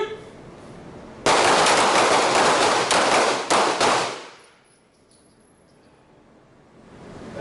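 Handgun fire in a darkened shooting drill, heard as a burst of several loud, close shots in quick succession, followed by a fading roar and quiet.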